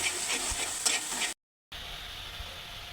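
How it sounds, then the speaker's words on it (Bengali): Masala spices sautéing in oil for a fish bhuna, a steady close sizzle with scraping stirs, broken by a brief silent gap before the frying resumes. "মশলাটা লাগিয়ে সেটা ভালো করে কষাইতে হবে"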